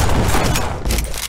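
Rapid bursts of small bomb explosions in a stick-figure video game crackle continuously, dense and loud with little pause, like a string of minor blasts going off close by.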